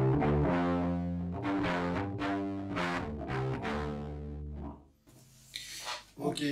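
A Harley Benton U-Bass in mahogany plays through a DSD distortion pedal, giving a gritty, sustained growl of several notes close up, briefly dropping out before a few more rough strums.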